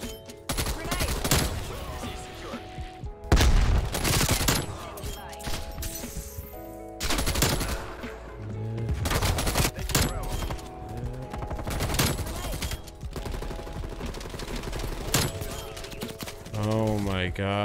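Bursts of automatic gunfire from a Call of Duty match using the KSP 45 weapon, sharp repeated volleys and single shots cutting through game noise, with a player talking over the action throughout.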